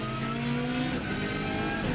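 A rally car lapping the Isle of Man TT course, its engine droning steadily at high revs with shifting tonal whine, close and continuous with no talk.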